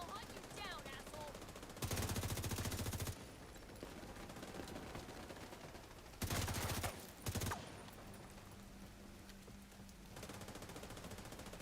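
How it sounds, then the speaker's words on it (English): An autocannon fires in The Division 2 in long bursts of rapid automatic shots, three loud sustained volleys separated by quieter game ambience and faint rain-like patter, with occasional voice beneath. "Also the autocannon, yeah."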